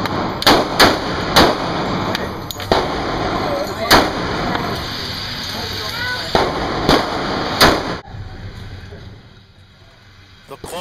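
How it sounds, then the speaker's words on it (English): Custom Colt 1911 pistol shots fire at an indoor range, loud sharp reports in an uneven series of about a dozen, some nearly back to back. Echoes from other lanes and a lingering hum fill the gaps, then the firing stops. "Not being familiar with the 1911 pistol, I took it to an indoor range to put some rounds through it."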